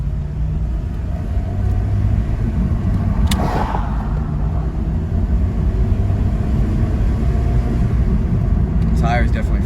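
An Acura RSX Type S with a K24 engine swap and a flat tire on a test drive gives a steady low in-cabin engine rumble and road noise throughout, with a brief rattle partway through and a faint squeak near the end.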